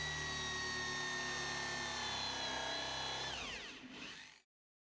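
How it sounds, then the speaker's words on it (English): A hole saw cuts a 50mm hole through a floor drain base component with a high, whining grind, then slows and winds down to a stop near the end. "Using a hole saw, cut a 50mm hole in the floor drain base component"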